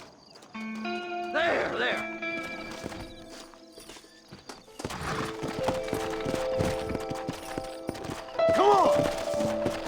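Horse hooves clip-clop steadily in the Western video game Red Dead Redemption, with a horse whinnying near the start and again near the end, under sparse shouted talk and background game music.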